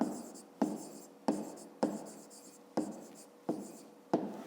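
A pen scratches across paper in repeated strokes, each starting with a sharp tap and trailing off, close and distinct in a quiet room.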